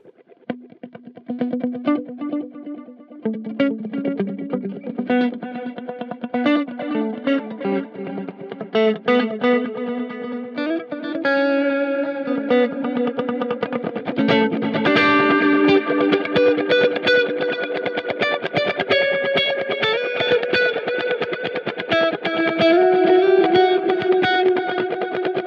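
Electric guitar run through a Boss DD-200 digital delay on its multi-head setting with heads three and four, a steady run of picked notes and chords trailing repeating echoes, continuous and fairly loud, no talking.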